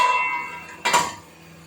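A metal lid clanks once onto a cooking pot of steaming chicken roast, a short, sharp clatter over a faint background hiss.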